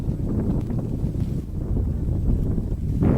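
Strong gusty wind buffets the microphone on an open flying field, a loud, continuous low roar that swells and dips with the gusts.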